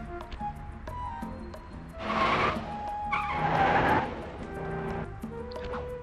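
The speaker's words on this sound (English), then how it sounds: "We're just driving up right now." Car driving in a Sly 2 Band of Thieves video game cutscene, with two bursts of tire skidding over a low engine hum and a faint musical backdrop.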